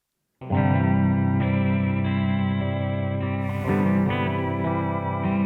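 A sustained, droning synth chord processed with a lo-fi tape-degradation effect that cuts the top end, sounding muffled like worn tape, with a faint wash of hiss creeping in near the end.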